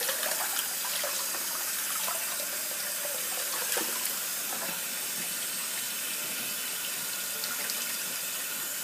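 Steady tap water runs without a break while co-washed hair is rinsed under it, a close, even hiss that stays level throughout.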